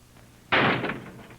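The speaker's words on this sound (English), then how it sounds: "And close the door." A door is shut with a sudden thump in a 1937 film, a single loud burst that decays over about a second in a quiet room, with no talk over it.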